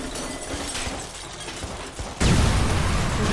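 An explosion in the video game Watch Dogs bursts in loudly near the end, a sudden booming blast after a stretch of busy game noise and scattered gunfire-like cracks.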